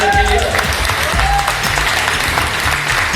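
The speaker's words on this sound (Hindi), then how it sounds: "मैं चाहूंगा एक बार जोरदार तालियां होनी चाहिए।" Loud, sustained applause fills a seminar hall in Balrampur during an RCM business talk. It forms a dense, steady wash of clapping from a large crowd, with faint voices and tonal sounds mixed in at the start.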